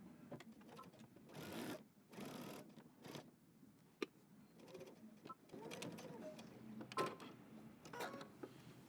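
A sewing machine stitching and backstitching a denim jeans jacket, running in short whirring bursts with pauses and small clicks in between, close and fairly quiet.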